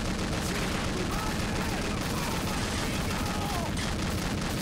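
Dense, loud automatic gunfire in the Scarface video game, a continuous close barrage of rapid shots with no pauses.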